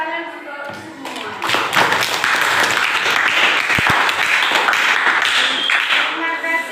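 Classroom applause from a group of students, broad steady clapping that swells after the first second and holds loud and close for several seconds, with a few voices mixed in.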